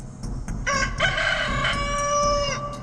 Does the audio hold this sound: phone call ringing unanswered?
no